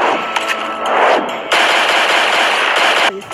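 Rapid, loud automatic gunfire from the video game Tales from the Borderlands, a dense sustained burst that briefly breaks off near the end, with no talk over it.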